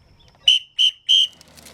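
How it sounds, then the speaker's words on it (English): A whistle blown three times in quick succession, short sharp shrill blasts, close and loud, during an off-road four-wheel-drive event in thick bush. "Okay, we'll blow our whistle."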